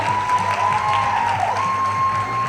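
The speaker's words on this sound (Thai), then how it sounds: "นี่ขอเสียงปรบมือนะฮะ" An audience applauds at a Thai League football event after a team's slogan is revealed, producing a steady wash of clapping at an even level with a faint crowd murmur and a sustained tone running underneath.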